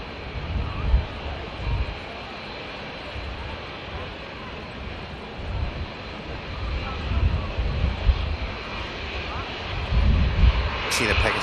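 EasyJet A320neo jet airliner at Manchester Airport, a steady broadband engine roar with low rumbling swells throughout, moderately loud and continuous, with a brief sharper sound at the very end.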